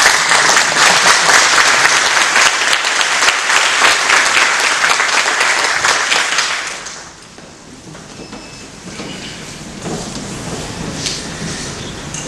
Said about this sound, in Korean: 큰 박수로 환영해 주십니다.